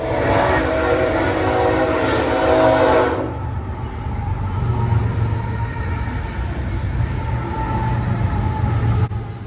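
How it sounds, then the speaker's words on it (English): A southbound BNSF freight train creeps around a curve at about 20 mph in Easley, South Carolina, a loud, close roar of cars and wheels for the first few seconds, then easing into a steady lower rumble. "Train 265, southbound BNSF through power bound for Atlanta, would be the second surprise train of the day"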